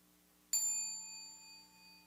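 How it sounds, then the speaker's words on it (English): A meditation bell is struck once and rings out with a bright, clear tone that lingers and slowly fades over a quiet background hum, alone without any voices. "Listen to the sound of the bell."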